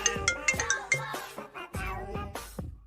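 A short, bright ringtone melody from a mobile phone, with a repeating pattern of tones played close and clear and no talking over it.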